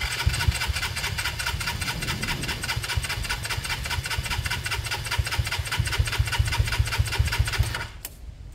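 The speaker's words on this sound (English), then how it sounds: "Wide open throttle as always with a compression test." A Kawasaki KSR GRS 125 engine cranks at wide open throttle during a compression test, a steady rapid chugging rhythm, loud and close, that stops abruptly near the end.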